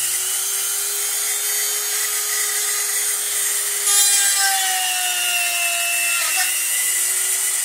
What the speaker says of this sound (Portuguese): Agora nós vamos furar ele.